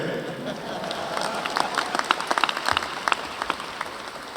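Commencement audience clapping, a broad crowd wash with scattered sharper individual claps standing out near the end, some voices underneath.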